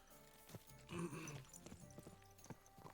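Video game horse hooves clip-clop in a steady, quick rhythm, with a brief snort, set against a soft background hum.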